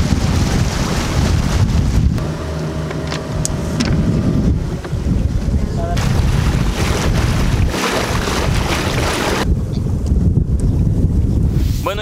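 A motor launch crossing open water at the Corchito ecological reserve in Yucatán, giving a loud continuous rush of wind and water with steady engine drone and occasional splashes, heard close up from on board.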